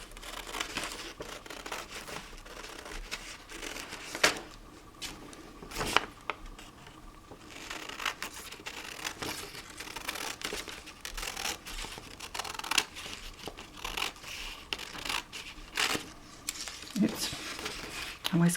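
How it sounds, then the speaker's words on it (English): Scissors snipping and paper tearing roughly while trimming collaged 'Franken' paper at a craft table, a steady stream of close crinkles, rips and soft cuts with a few sharper bursts. "I always go up at the corners with my scissors."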